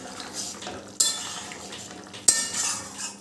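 A jackfruit seed curry finished with a spoonful of ghee and garam masala is stirred in a pan, giving soft scraping and clinks with two sharp utensil knocks against the pan and a faint sizzle underneath.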